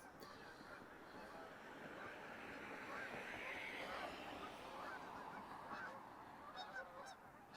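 Flock of geese honking overhead during a December walk north of Regina Avenue in Regina, a dense continuous chorus of honks at moderate distance over faint wind.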